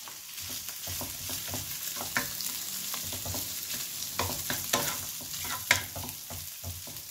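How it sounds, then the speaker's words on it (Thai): Garlic fried rice with Japanese-style pork sausage being stir-fried in a pan. A steady sizzle runs under frequent scraping stirs and clinks from a spatula, close and continuous. "ผัดไม่ต้องนานนะครับผมแป๊บเดียวพอนะเสร็จแล้วก็ลงข้าวไปเลยนะครับ"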